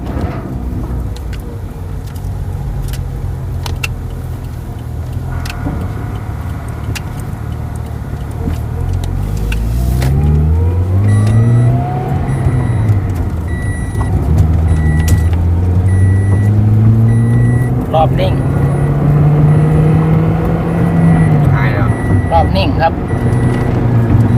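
A 2008 Toyota Corolla Altis engine idles roughly, its revs wavering up and down unevenly as if about to stall, heard close with steady background rumble.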